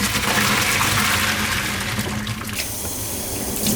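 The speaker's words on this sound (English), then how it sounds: "I'm going to pour out the water and then rinse it a bit." Water poured out of a cooking pot into a sink, then a quick rinse, a loud rushing splash that eases off and changes to a thinner running stream near the end.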